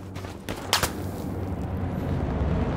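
Gunfire in the World War II shooter Hell Let Loose: a few sharp nearby shots in quick succession early on, then a lingering rumbling battlefield ambience.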